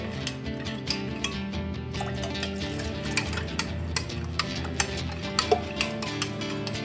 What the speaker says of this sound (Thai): เทใส่คนให้มันละลายไป